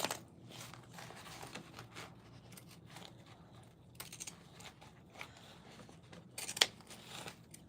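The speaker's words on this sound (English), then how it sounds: "I bought these Kai pinking shears, and I've been having the hardest time with these things." Kai pinking shears snip through fabric for a shoulder bag, a steady run of soft, close crunching cuts with a sharper snip near the end, no voices.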